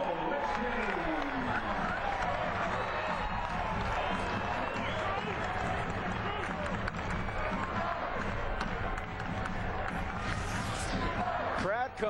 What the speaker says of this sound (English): Crowd coming to life here in Tucson.